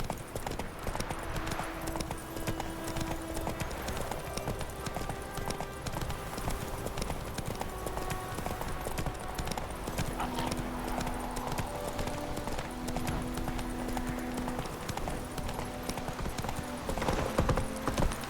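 Horse hooves clip-clop steadily through the full stretch in The Witcher 3, with a brief neigh, set amid game music and ambient background.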